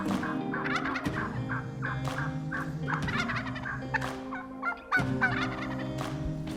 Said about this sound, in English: First in is this group of hens.